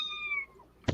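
A single cat meows once, a short clear falling cry up close, followed by a brief burst of rustling noise.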